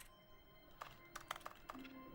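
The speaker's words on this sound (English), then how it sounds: "if I press X, you can hear typing" Faint keyboard typing in the video game The Stanley Parable, a handful of soft, separate key clicks tapping irregularly over a quiet background.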